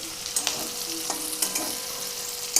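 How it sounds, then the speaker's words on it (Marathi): Green chilies roast in a hot pan for sabudana khichdi, a continuous close sizzle and crackle with a few scattered pops and light stirring scrapes, no voices. "मी आता गॅस मोठा केला आहे अजून थोड्या मिरच्या भाजण्यासाठी"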